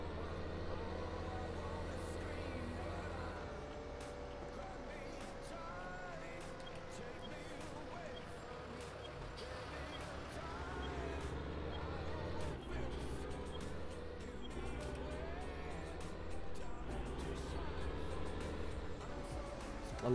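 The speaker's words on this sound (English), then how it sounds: "I love the engine sounds on this tractor." A tractor engine in Farming Simulator runs steadily for about twenty seconds, a low continuous drone that swells slightly louder toward the end, with a voice talking over it.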